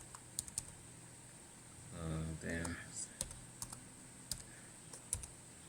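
Short bursts of computer keyboard typing enter a password, scattered sharp clicks with a brief rumbling stretch in between, faint and close against a quiet room.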